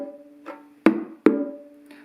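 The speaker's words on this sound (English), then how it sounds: "strike the larger bongo with the index finger of our," A larger bongo struck with the right index finger gives a few sharp, close hand slaps with ringing tone, quiet and spaced apart with no other sound.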